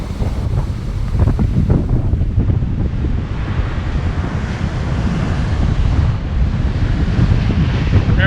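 Rough ocean surf churns and crashes below sea cliffs in the Nusa islands off Bali, with strong wind buffeting the microphone in a continuous, loud roar throughout.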